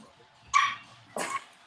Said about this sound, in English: We hear his dog.